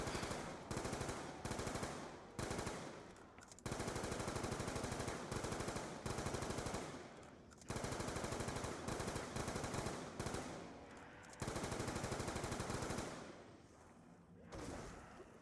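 Sustained automatic rifle fire from an AN-94 in Call of Duty's Die Rise zombies mode, loud continuous bursts rattling almost nonstop with brief gaps between strings of shots.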